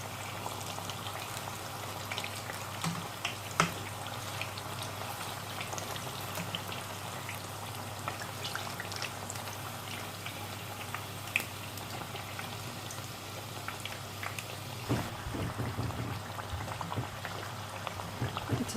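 Potato pakoras bubble and crackle in a pan of hot oil, a dense continuous patter of frying pops under a low hum, steady and close throughout with no speech.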